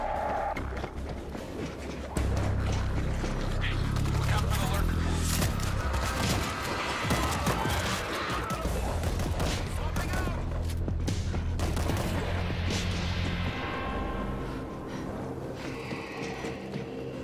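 A mounted machine gun fires in the zombie shooter World War Z, loud sustained bursts mixed with booms and chaotic game noise, with voices talking over the shooting.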